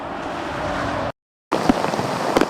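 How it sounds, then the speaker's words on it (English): Heavy rain pours down during a flash-flood downpour in Beaumont, southeast Texas, a dense, loud, steady hiss that cuts out for a moment and then returns with scattered heavier spatters. "Heavy downpours and fast, high-rising waters drenched Beaumont Friday."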